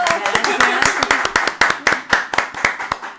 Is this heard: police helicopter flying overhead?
no